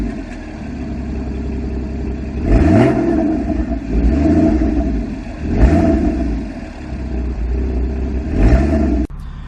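A 2014 Porsche Cayman engine idles, then revs sharply four times, each rev rising and falling away, with a short click near the end.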